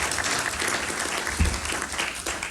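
An audience applauds at a speech event held by an imam from a Washington, D.C. mosque, a dense wash of steady clapping over about two and a half seconds with no clear voices on top.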